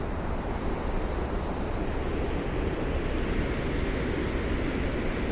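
Steady roaring rush of a waterfall after a flood, constant and full without pause, filling the whole stretch with no voices.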